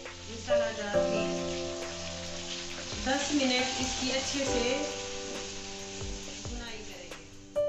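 Chicken and onions fry in a pan with a steady close sizzle and occasional stirring scrapes, while tonal background music plays underneath.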